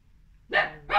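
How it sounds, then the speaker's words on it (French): Two short dog barks in quick succession, fairly close, after a brief quiet moment. "excusez-moi pour les aboiements"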